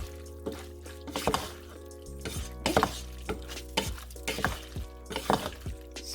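Seafood palabok noodles being stirred in a pan with crushed pork rind, a series of close, irregular scraping and clinking strokes of the utensil against the pan over a faint sizzle, with no talking.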